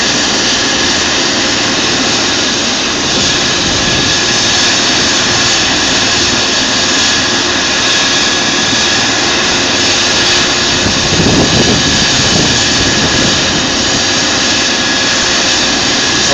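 An air ambulance helicopter sits in a tiny harbour at Mullion Cove on Cornwall's Lizard Peninsula, its turbine whine and rotor roar loud, close and continuous throughout.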